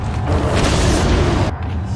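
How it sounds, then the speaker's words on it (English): A flashbang grenade goes off in Resident Evil 4, a loud dense booming roar filling both seconds with a brief dip near the end, no speech. "like flashbang this guy?"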